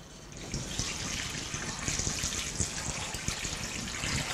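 Potatoes are washed in a bowl under running tap water, making a continuous close gush and splash with small knocks as they are handled. No one speaks.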